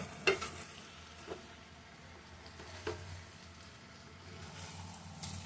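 Fish curry being stirred in a pan, giving faint scraping and light sizzling with a few soft clinks of the spoon against the pan, all low and steady in the background.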